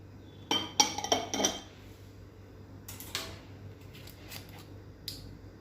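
A spoon clinks and scrapes against a bowl as carrot and egg batter with sugar and grated coconut is stirred, two quick bursts of rapid metallic taps and then a few scattered clinks, close and alone.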